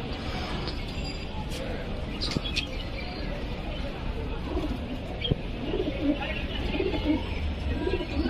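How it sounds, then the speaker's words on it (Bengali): Andhra female pigeons coo repeatedly in a loft, soft low calls continuing under steady background noise and occasional voices nearby. "এই যে আমার বাড়ির আন্ধ্রা রেগদার পায়রার মাদি পায়রা"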